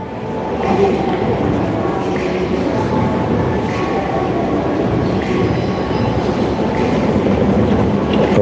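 A subway train in the USA runs continuously with a loud, dense rumble of rolling wheels and rail clatter that fills the whole stretch. A few faint squeals ride on top.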